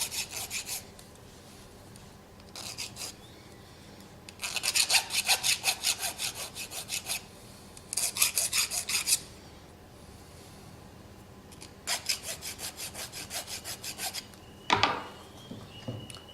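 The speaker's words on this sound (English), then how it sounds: "give it a little bit of a clean up around the edges with a file" Hand file rasping the edges of a metal kit part, bursts of rhythmic back-and-forth strokes in several separate runs with quiet pauses between, close and fairly crisp.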